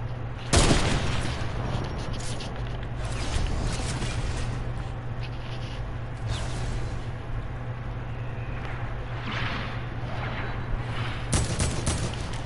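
Shotgun blasts in an online shooter video game, loud sharp reports at the start and near the end over a steady hum and dense game noise, with a player talking now and then.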